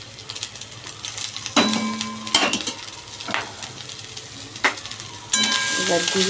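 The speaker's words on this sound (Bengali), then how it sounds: "ভাতের সাথে ভালো করে তাকে মিশিয়ে নেব" Cooked rice being stirred and mixed with chicken in a hot pan, with sizzling and frying, scraping spatula strokes and clinks against the pan, plus a brief word from a woman.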